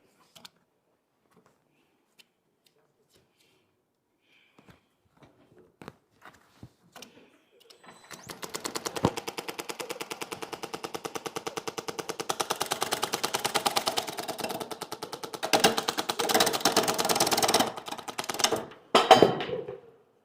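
Small wood lathe turning a winged bowl, starting after a few quiet taps and then running as a steady rapid chattering clatter, close and moderately loud, with louder irregular bursts near the end as the tool catches the wings.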